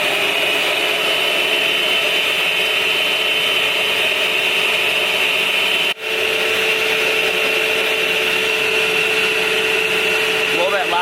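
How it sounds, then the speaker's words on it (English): A vacuum pulls the air out of a car tire while a tire pressure sensor is being replaced. It makes a loud, steady whirring drone with a momentary dropout partway through. "It's going to run the vacuum."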